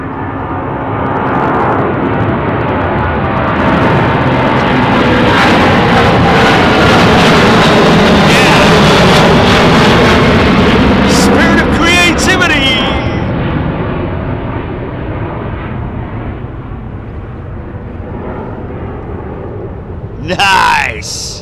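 A Boeing 777 with Rolls-Royce engines departs from runway 09R at London Heathrow, a loud sustained jet roar that swells and slowly fades, with people talking near the end.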